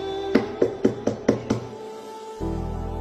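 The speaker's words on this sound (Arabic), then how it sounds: "يوم اللي يندق بابك هيك" Six sharp, evenly spaced knocks land on a door, close and distinct, followed by a low steady hum after a brief pause.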